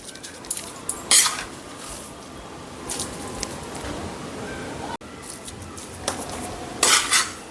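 Gujarati sukhadi scraped from a pan onto a plate, with metal-on-metal scrapes and clanks in separate bursts, two loud sharp clatters standing out, close by, with no talking.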